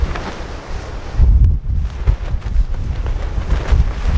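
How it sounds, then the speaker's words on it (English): Strong wind on a hilltop near Waynoka, Oklahoma, buffeting the microphone in heavy low rumbling gusts, rising and falling continuously with no talking. "It was really windy up on there on the hill"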